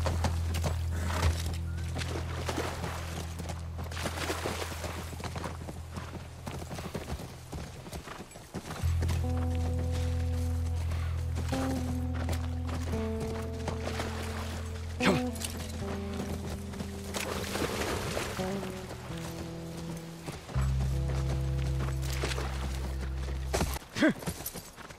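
Horse hooves walking in the video game The Last of Us, a steady near clip-clop over low droning game music that swells and shifts, with occasional soft thuds.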